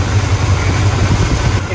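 An old school car engine fitted with Edelbrock parts idles up close with a loud, steady, low rumbling pulse.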